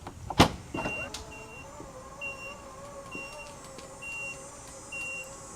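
An aftermarket power lift gate on a Range Rover Sport hums steadily as its motor opens the hatch, with a short click at the start and a faint beep repeating about once a second throughout.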